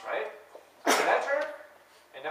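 A single sudden sneeze bursts out in a lecture hall, loud and close, breaking into an instructor's ongoing talk, which continues around it.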